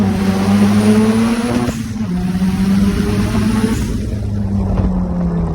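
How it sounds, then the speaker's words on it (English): A street-ported, turbocharged Mazda 13B rotary engine in a 2016 Caterham 7 roadster idles loudly and steadily with a buzzing drone, its pitch dipping briefly before settling back into a constant, close-up hum. "What it is a Mazda Rotary 13B engine."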